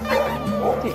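A husky sled dog gives a close, loud, whiny bark-howl lasting about a second, with its pitch sliding up and down in a yodelling way.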